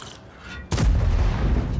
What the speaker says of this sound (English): And that was just another terrible shot.